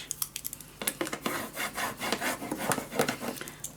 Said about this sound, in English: I'm just gonna lay it flat and burnish it down. Every corner, every edge.